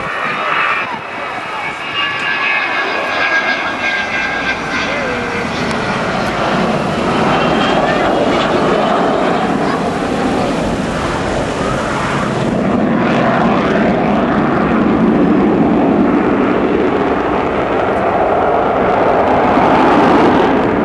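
Avro Vulcan XH558, a delta-wing jet bomber, flies at the Filton airshow with a sustained, loud, swelling roar of jet engines that builds over twenty seconds while a voice talks underneath.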